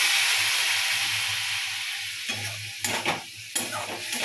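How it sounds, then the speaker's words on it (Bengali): Ridge gourd and potato masala sizzles in a pan while being stirred, a continuous hiss broken by several sharp spatula scrapes and clatters toward the end. "এবার এটা একটু নাড়াচাড়ি করতে থাকবো, মাঝে মাঝে একটু জলে ছিটিয়ে দেবো"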